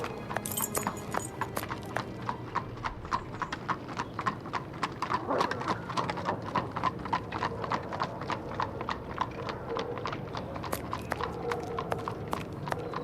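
Horse hooves clip-clop steadily on a deserted night street in the Sherlock Holmes vs. Jack the Ripper game, an even, regular trot heard close and clear throughout over a low ambient bed.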